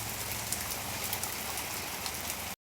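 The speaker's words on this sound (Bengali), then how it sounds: "সারাদিন সকাল থেকে জল হয়েই যাচ্ছে হয়েই যাচ্ছে" Steady rain falling outside a house during a day-long downpour, a dense, even hiss of drops throughout, ending abruptly.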